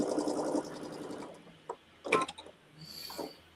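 Sewing machine stitching a quilt block seam, a steady mechanical whir for about half a second that then stops, followed by scattered light handling clicks and taps.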